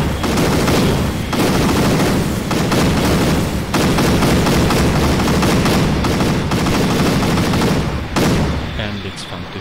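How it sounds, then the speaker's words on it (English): ACF weapons fire in Garry's Mod in dense, rapid bursts, loud sustained machine-gun clatter with brief gaps, tapering off near the end. "And it's fun to shoot ACF weapons."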